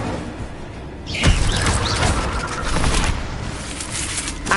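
Incendio fire spell cast in Hogwarts Legacy, a sudden loud burst that swells into a roaring, crackling rush of flame lasting several seconds, with game sounds beneath.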